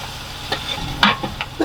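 Onions frying in a pan while someone stirs them, in a village kitchen: a low steady sizzle with a few scraping stirs, close by, and no talk.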